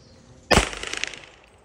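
A single pistol shot at an outdoor firing range, fired from about seven meters: one sharp, loud crack followed by a short, fluttering echo that trails off within a second.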